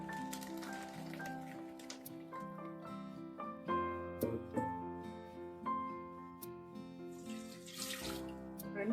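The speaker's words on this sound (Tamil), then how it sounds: "ரெண்டு டம்ளர் தண்ணி விட்டு அப்படியே மேலாட்டம் ஊற்றி வடிகட்டிக்கிறோம்." Water splashes and trickles steadily through a strainer while rasagulla is made, with clinking and tapping of kitchen utensils and a few louder pours near the end.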